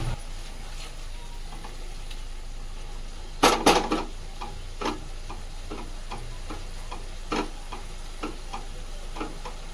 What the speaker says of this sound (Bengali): এটাকে এখন ভালো করে আমি কষবো।